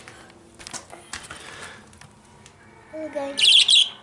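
A pet parakeet budgie in a coal mine demonstration gives a few sharp, bright chirps near the end, after quiet clicking and handling noises, with a brief spoken word in between.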